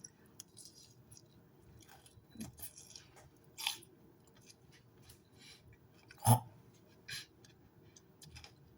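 Crunchy bites of a Caesar salad, a few sharp crunches scattered over quiet background, with one loud close crunch standing out near the end.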